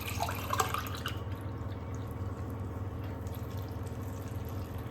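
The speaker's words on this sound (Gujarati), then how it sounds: "હા, હવે આપણે એમાં પાણી એડ કરીશું।" Water is poured into a pressure cooker packed with peas, capsicum and other vegetables for pav bhaji: a brief splashy burst at the start settles into a softer, continuous trickle nearby, with no talking.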